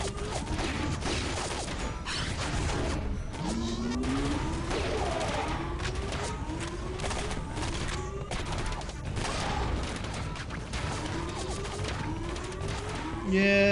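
Sustained gunfire in the shooter Area 51, dense bursts of shots and mechanical clatter filling the whole stretch at close, loud range, with occasional voices under the din.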